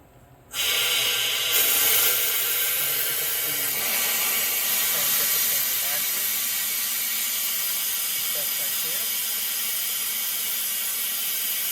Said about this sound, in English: I'm going to just slowly start letting the shop air run through it